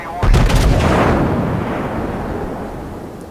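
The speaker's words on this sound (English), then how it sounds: "Concentrate fire on the enemy warship." A single heavy warship gun salvo in World of Warships booms out loud and close, a sharp blast followed by a long rumbling decay over a few seconds.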